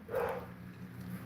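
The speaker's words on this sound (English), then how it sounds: "sorry if you hear the dog barking still" A dog barks once near the start, a short muffled woof over a low steady hum, followed by quiet background noise.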